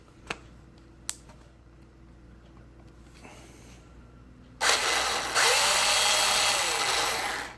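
A couple of faint clicks and a low hum, then an old Makita power drill running in reverse whirs loudly near the microphone, its motor pitch dipping then holding steady.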